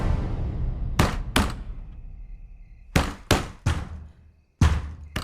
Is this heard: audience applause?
no